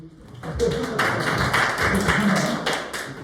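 An audience at a lecture or training session claps together, a dense burst of many hands that begins about half a second in and continues steadily, fairly loud and close, until the end.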